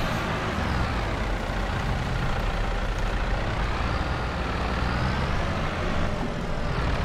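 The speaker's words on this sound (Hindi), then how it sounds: "ट्रैक्टर फंस फंस के चल रहा है यहाँ पे भी।" A Sonalika 60 RX tractor engine labours through mud in Farming Simulator 22, a loud, unbroken mechanical drone that holds steady throughout with no voices.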